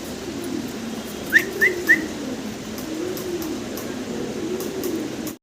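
A pair of Kormona pigeons giving a low, wavering coo that rises and falls throughout, with three quick, sharp whistles early on over faint background noise.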